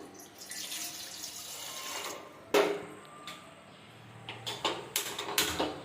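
Water poured into a cooking pot, two vessels' worth, for a sweet dish: a steady splashing pour with brief clinks of the vessel, a sharp knock midway and a few small taps near the end.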